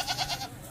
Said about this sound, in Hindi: खड़े कानों वाली टेडी और बर्बरी मिक्स है ना, क्रॉस बकरी है